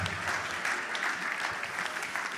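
A hall audience at a French-language evening healing service breaks into sustained, dense applause and cheering, a continuous roar of clapping filling the space without letup.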